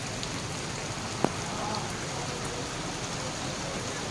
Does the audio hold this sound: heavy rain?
yes